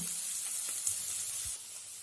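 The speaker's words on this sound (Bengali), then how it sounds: "এখন আমি সয়াবিনটা ভেজে নেব।" Soybean chunks fry in oil with salt and turmeric, a quiet, steady high sizzle with faint stirring taps and no voices.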